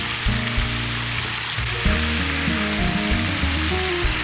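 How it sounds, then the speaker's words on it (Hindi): Onions, garlic, ginger, green chilies and tomatoes fry in a pan for a charsi korma, a steady close sizzle with low, humming background music and no talking. "इसे मैं 3 मिनट तक भून लिया।"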